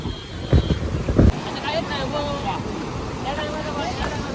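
Rough sea surf beside the Kunkeshwar temple, stirred up by rain, roars steadily under gusty wind buffeting the microphone while someone talks over it.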